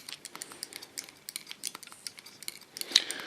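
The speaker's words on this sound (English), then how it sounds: "It's a wonderful sound to hear scissors cutting hair." Scissors snip through hair during a very short haircut, a quick, irregular run of faint, crisp, close snips with no voices.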